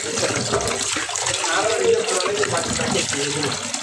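Small fish, including little poha fish, rinsed under running tap water, a steady rushing splash near by with hands working the fish, while a voice speaks over it.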